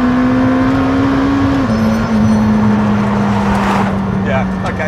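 A McLaren hypercar pulls hard from a low gear, its engine note rising steadily and droning loud and close throughout, with a voice talking over it.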